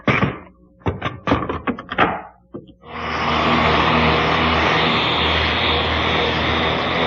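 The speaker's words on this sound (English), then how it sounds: "Here again, you can see the advantages of a panel cutter." A panel cutter saws through wooden panels in a workshop: a few sharp knocks and clatters as the panel is set, then the saw starts and cuts with a loud, steady, close whirring roar.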